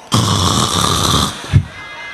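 A man imitates loud snoring, one long rasping drawn-in snore followed by a short snort, close and alone.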